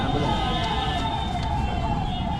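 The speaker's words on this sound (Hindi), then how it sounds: "एम्बुलेंस" An ambulance siren wails steadily over dense, continuous street and traffic noise, a sustained tonal cry that stays fairly prominent but blends with the busy roadside rumble.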